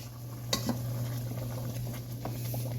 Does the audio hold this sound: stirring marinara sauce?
yes